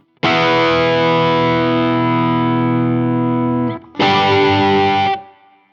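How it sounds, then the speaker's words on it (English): A heavily distorted electric guitar chord rings out loud and sustained for several seconds, cuts off, then a second chord is struck and held briefly, slightly out of tune on the G string. "if I dial in more distortion and you hit a chord"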